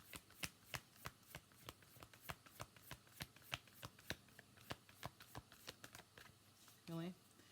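A tarot deck is shuffled close by in a fast, steady run of crisp card clicks, ending with a brief vocal sound.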